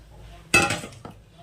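A lid goes onto a pan of vegetables cooking on a gas stove, one sharp metallic clank followed by a smaller rattle a moment later, close and brief.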